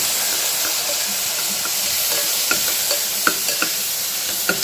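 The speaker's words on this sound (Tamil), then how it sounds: "இந்த 100 கிராம் வெங்காயத்தை சேர்த்து நல்லா வதக்கிக்கிறோம்." Onions sautéing in hot oil for a beef fry, a loud continuous sizzle and hiss with occasional soft scrapes of stirring, close and steady.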